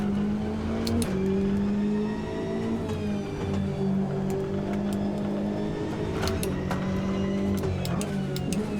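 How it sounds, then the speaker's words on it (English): A race car engine in the video game Automobilista 2 revs hard and holds high in fifth gear, a loud steady drone with small pitch dips as the throttle shifts, alone throughout. "revving it out in 5th gear."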